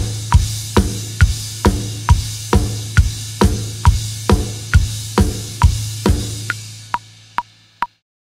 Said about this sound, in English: it's a typical four on the floor, two and four part.